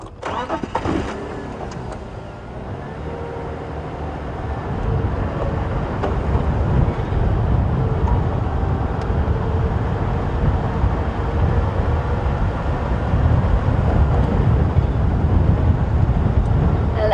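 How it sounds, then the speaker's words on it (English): Strong wind in the Sabi Sands roaring steadily and loudly, a broad continuous rumble with gusty swells, with no voices over it. "As you can hear, it is very, very windy today"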